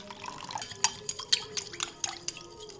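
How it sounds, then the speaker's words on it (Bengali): Water is poured into a pan and stirred into a veg Manchurian gravy, heard as close, light drips and splashes with soft stirring clinks in irregular bursts. "বেশ কিছুটা পরিমাণে জল দিয়ে মিক্স করে নেব।"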